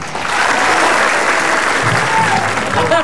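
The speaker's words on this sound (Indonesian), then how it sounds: "Tepuk tangan untuk semuanya" A studio audience at an Indonesian television talk show claps in a loud, sustained burst of applause, dense and steady for the whole stretch, with a voice faintly speaking underneath near the end.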